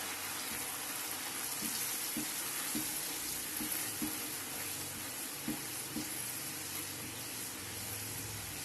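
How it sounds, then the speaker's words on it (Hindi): Tomatoes and spices sizzle steadily in a pan for daal mash, with a faint continuous frying hiss and a few soft stirring taps, heard alone at low volume. "थोड़ा सा हम इसको भून लेंगे, टमाटरों का पानी खुश्क हो जाए"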